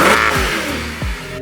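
A Mercedes 6.2 litre V8 accelerates hard on the road, loud engine roar climbing with quick gear shifts dropping the pitch twice before it fades.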